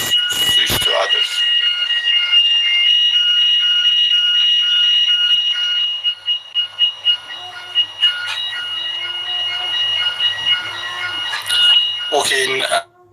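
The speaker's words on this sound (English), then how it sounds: "in our building is an alarm" A building fire alarm rings loudly and continuously with a steady high electronic tone, then pulses in short bursts, while people talk over it.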